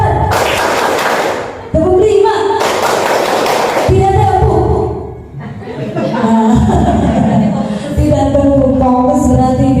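A group of adults clapping together in a classroom-style rhythm exercise: dense bursts of clapping in separate counted rounds, each a few seconds long, alternating with short gaps and a voice leading, loud and close.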